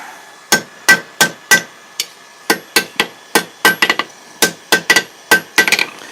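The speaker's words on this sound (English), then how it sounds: "I got this little step anvil. And it just lets me get in there with some edges" Hot steel struck with a hammer on a small step anvil during forging of a bottle opener: about twenty sharp, ringing blows, close and loud, in irregular bursts, some in quick doubles, with no talk.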